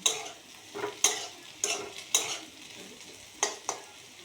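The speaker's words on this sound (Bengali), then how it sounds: "ওই যে আমার মাংস ভাজা হয়ে গেছে" Meat frying in a wok with chilli powder added, close and alone: a soft steady sizzle broken by about six metallic scrapes and clinks of a spatula stirring against the pan at irregular intervals.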